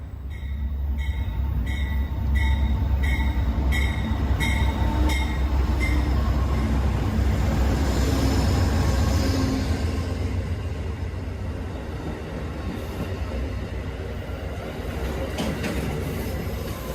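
An Amtrak train rumbles steadily alongside a platform at Washington station during a locomotive change, low and continuous, with high metallic squeals and clicking early on, holding loud throughout.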